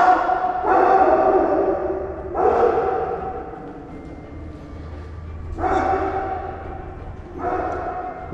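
A large dog barks four times in loud, deep, widely spaced bursts outside an abandoned hospital, with quiet pauses between each bark and no talking.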